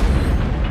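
A boat explodes in a movie, heard as a loud, deep, rumbling boom that fills the short moment with heavy low-end roar and no voices.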